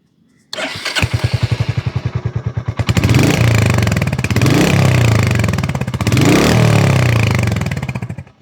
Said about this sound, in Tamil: இந்த ராயல் என்ஃபீல்ட் 100 350யோட எக்ஸாஸ்ட் நோட் எப்படி இருக்குது அப்படின்னு நம்ம பார்க்கலாம்